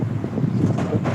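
Strong wind buffets the microphone with a loud, rumbling roar, gusting continuously.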